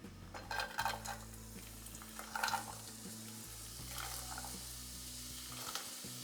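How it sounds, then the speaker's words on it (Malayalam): Chopped onion frying in hot coconut oil, a faint, low sizzle with a few light clinks of a utensil against the pan and a steady hum underneath. "അപ്പോൾ ഇത് ചൂടായിട്ട് വരുമ്പോൾ നമുക്ക് അരിഞ്ഞു വെച്ച സവാള ഇട്ട് കൊടുക്കാം."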